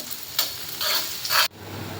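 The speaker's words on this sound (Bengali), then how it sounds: "পেঁয়াজগুলো একটু ভাজা ভাজা করে নিব।" Three chopped medium onions frying in hot oil in a pan while being stirred, a steady sizzle broken by a few louder scraping bursts, close and clear with no talking.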